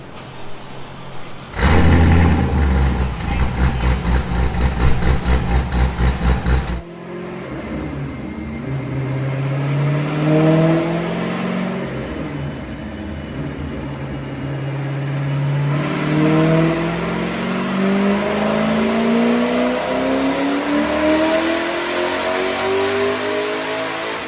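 A twin-turbo Corvette Z06 on a dyno, first a loud staccato rev burst, then a long pull with the engine note climbing steadily in pitch, turbo whine above a rising roar.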